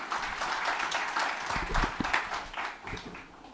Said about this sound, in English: give an applause for Per for being with us today